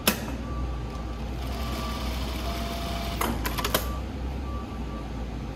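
A JUKI industrial sewing machine runs at high speed, a steady fast whirring hum with a brief burst of sharp rapid clatter partway through, close and alone without talk.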